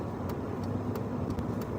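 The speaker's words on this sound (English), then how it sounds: "hopefully that car go past me." Low steady rumble of a car going past outside, muffled and moderately distant, with a few faint sharp ticks over the constant road noise and no talking.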